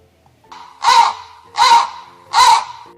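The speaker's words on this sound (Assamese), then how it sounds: "কাউৰী" A crow caws three times in a steady, evenly spaced series, each harsh call loud and close, with nothing else around it.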